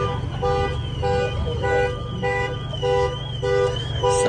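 A car alarm blares in a repeating cycle of tones, steady and loud, with traffic rumble underneath, at a Cars and Coffee car meet.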